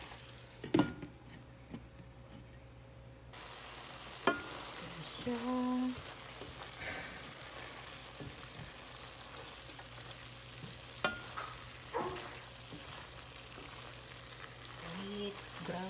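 Ground pork frying with garlic and onion from the garden, a soft steady sizzle under faint stirring clatter and occasional knocks, with a quiet voice briefly in the background.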